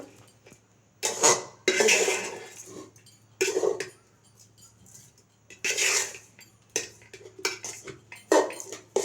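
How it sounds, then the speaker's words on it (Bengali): Rice being stirred in a metal pot while layering a biryani-style dish at a home kitchen, with bursts of scraping and clinking of a utensil against the pot separated by quiet pauses, close and clear. "এরপর আমি রাইসটা একটু নেড়ে দেব"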